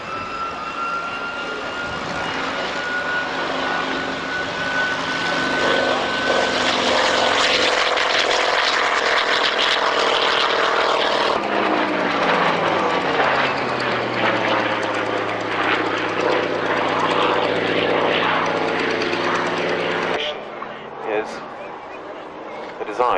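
A Fairey Firefly propeller aircraft flies past at the Yeovil airshow at Yeovilton, its loud droning engine sustained for over twenty seconds, with pitch shifts as it passes, under continuous commentary.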